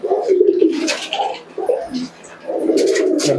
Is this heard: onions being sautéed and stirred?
no